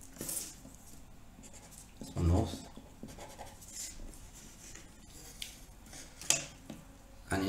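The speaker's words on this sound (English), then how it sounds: "What you do first is draw a north line." A pencil draws a line on paper while plotting a bearing, soft scratchy strokes and light taps of the pencil and protractor close by, quiet and intermittent against a faint room background.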